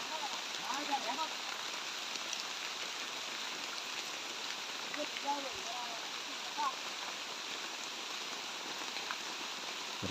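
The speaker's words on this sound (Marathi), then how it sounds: "पाऊस कमी होईल मग निघूया" Steady rain patters on leaves in a cashew orchard, a soft continuous hiss with scattered drips, while faint voices murmur in the background.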